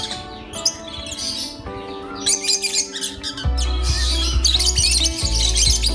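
Barong and non-clap lovebirds chirp and squawk nearby in sharp, overlapping bursts. The calls grow busier as a low rumbling hum sets in partway through.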